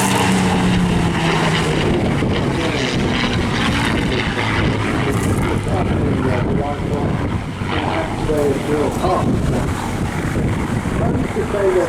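A Supermarine Spitfire Mk9 with a roaring piston engine flying over an airshow at Eastbourne, a steady loud drone mixed with strong wind buffeting on the microphone and a public-address announcer talking over it.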